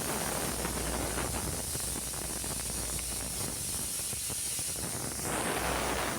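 A pressure cooker cooking spinach and lentils vents steam again in a loud, continuous hiss that holds steady, dips slightly, and then surges back up, with no voices.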